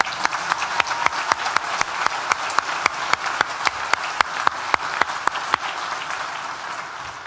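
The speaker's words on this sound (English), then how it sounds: "get a well-deserved additional round of applause" A graduation ceremony audience gives sustained applause: dense, even clapping from a large crowd in a hall, with a few sharp individual claps standing out, lasting several seconds without talk.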